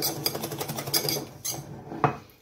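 Cake batter with cacao powder is stirred in a bowl, giving a rhythmic series of soft scraping, clinking strokes close up, then a pause and a couple of sharper knocks near the end, with no voices.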